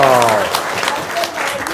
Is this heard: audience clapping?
yes